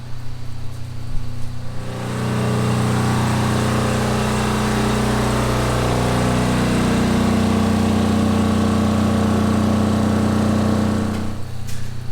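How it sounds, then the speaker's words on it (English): A generator drones steadily in its generator room after hours of running, a loud, close, constant engine hum that swells slightly as someone moves nearer and then eases off, with no talking. "Let's go check the generator room and see how much fuel is left inside the generator after 11 hours of operation today."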